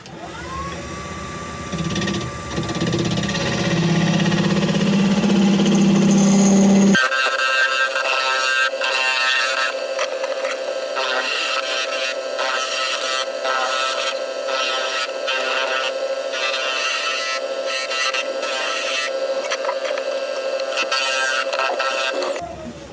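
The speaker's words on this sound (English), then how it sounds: "I'm just going to sharpen up the skew" A woodturning skew chisel is sharpened on a grinder, first as a loud rising whir and then as a long, steady abrasive grinding hiss with faint scraping textures that lasts to the end.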